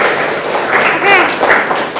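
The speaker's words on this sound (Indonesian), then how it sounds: "tepuk tangan buat temennya" Classroom applause for a student in a nursing lecture, a brief spell of moderate clapping from a group, mixed with voices, indoors.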